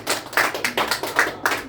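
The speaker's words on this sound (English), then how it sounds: "Please give her a round of applause" Small audience at a game event clapping for a player, a brief, sparse round of applause with distinct individual claps and no talk.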